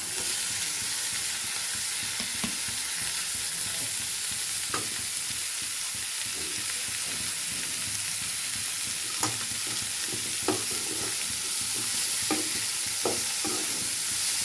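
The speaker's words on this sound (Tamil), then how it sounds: "வெங்காயம் தாளிக்கணும்" Onions and boiled cabbage tempered in a pan, with continuous frying sizzle and scattered scraping stirs and clinks of a spoon, close and without any voices.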